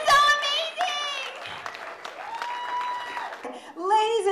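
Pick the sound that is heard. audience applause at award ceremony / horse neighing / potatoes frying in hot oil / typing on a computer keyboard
audience applause at award ceremony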